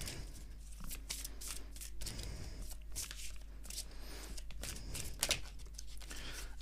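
Shamanic medicine oracle cards being shuffled by hand, a close, continuous riffling and flapping of card stock with soft slaps, quiet and alone.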